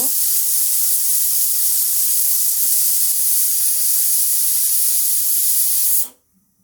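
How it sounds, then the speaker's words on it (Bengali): A pressure cooker boiling beef lets out a loud, continuous hiss of steam that holds steady for about six seconds, then cuts off abruptly into silence. "এরপর আমি প্রেশার কুকারের ঢাকনাটা খুলে"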